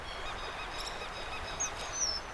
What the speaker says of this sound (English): Calls are short and simple sounds which can be heard throughout the year